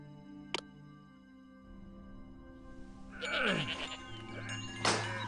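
Goats bleat in the city-building game Master of Atlantis, a few wavering calls rising over quiet ambient game sound, with a short click early and a louder bleat near the end.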